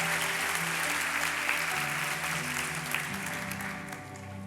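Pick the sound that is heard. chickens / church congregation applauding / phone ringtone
church congregation applauding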